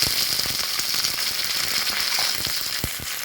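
Curry leaves hit hot coconut oil with mustard seeds and dried red chillies in a pan, giving a loud, steady sizzle peppered with sharp crackles and pops, with no talk.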